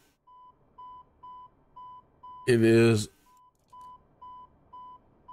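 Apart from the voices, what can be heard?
Airbus A320 NEO cockpit beeping in flight simulator game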